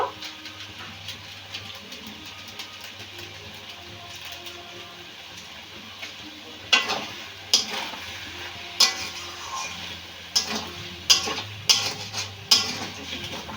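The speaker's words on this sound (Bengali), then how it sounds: "একটু ভালো করে কষে নেব" Lote fish curry being stir-fried in a pan after a sprinkle of garam masala, with a soft steady sizzle under repeated louder scrapes and clinks of a spatula against the pan in the second half.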